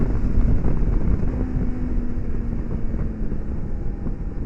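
A loud, steady BMW K 1600 GTL touring motorcycle engine drone with constant road rumble from rough, uneven, grooved pavement and a faint whine, continuous throughout without pauses.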